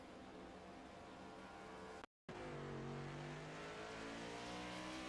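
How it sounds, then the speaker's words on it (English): Stock car engines roaring and revving in an iRacing race at Charlotte Motor Speedway, a car sliding off track with tire squeal, loud continuous engine drone broken by a brief dropout. "sounds like someone just went off track"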